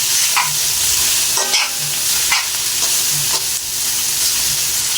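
A frying pan holding adobo of pork intestines with string beans rattles and clatters as it is stirred over a continuous loud sizzle, with about four distinct clanks spaced roughly a second apart.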